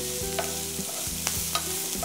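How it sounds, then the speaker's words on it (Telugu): Chopped ginger and garlic stir-fried in a pan for gobhi manchurian, with a soft sizzle under repeated scraping strokes of a spatula and sharp metallic clinks, close and steady without talk. "సన్నగా తరిగినవి అల్లం వెల్లుల్లి ముక్కలు"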